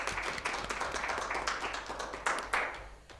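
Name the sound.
audience clapping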